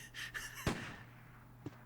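Gunshots in the Resident Evil video game: one sharp, loud blast near the middle, then a second fainter, shorter crack, over a low steady game hum with no talking.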